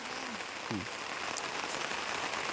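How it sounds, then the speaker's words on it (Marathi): Soft, steady patter of fine, windless rain, with a faint sheep bleat briefly heard early on. "कारण बारीक पाऊस असतो वारं नसतं"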